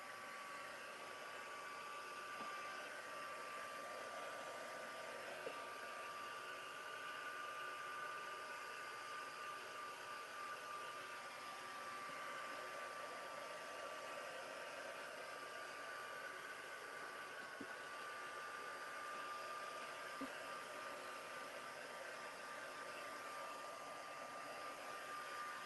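A heat tool drying mixed media artwork blows a steady, unbroken whir of hot air for the whole stretch, even and fairly soft, with no talking over it.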